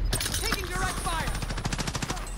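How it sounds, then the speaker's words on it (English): Rapid automatic gunfire rattles in a video game firefight, a dense stream of close, sharp shots under a player's tense speech. "Taking direct fire."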